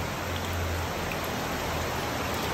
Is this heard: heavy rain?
yes